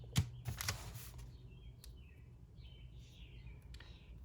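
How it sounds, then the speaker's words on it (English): Birds chirping outdoors on a summer day, faint and somewhat distant, scattered short tweets under a low background hum, with a few brief taps or clicks nearby at the start. "At least there's a lot of birds singing today."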